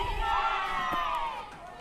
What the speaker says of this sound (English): The crowd has become louder.